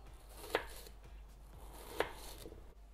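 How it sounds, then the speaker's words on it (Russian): Two sharp knife chops about a second and a half apart as an onion is cut into large wedges for an Easter main dish, each strike clear over a quiet kitchen background. "Лук нарежу крупными дольками."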